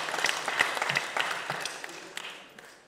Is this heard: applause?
yes